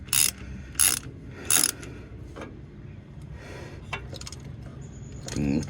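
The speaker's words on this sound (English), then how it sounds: "I have a pass-through ratchet right here. And just start cranking on her." A pass-through ratchet clicks in three loud, rapid bursts close by while cranking on steering components of a 1997 Ford F-150, followed by quieter metallic handling and another burst of clicks at the end.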